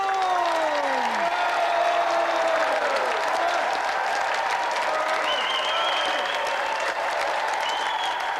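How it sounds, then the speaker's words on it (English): Sustained applause from a TV studio audience, dense clapping filling the whole stretch, with some whistle-like tones gliding over it. "Let's have another round of applause for Callum Green and tonight's special guest"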